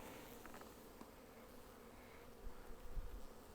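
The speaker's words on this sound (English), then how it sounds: "look at all those bees" Honey bees from a swarm being moved into a hive box hum in a steady, low, continuous drone close by, with a few soft knocks and handling bumps near the end.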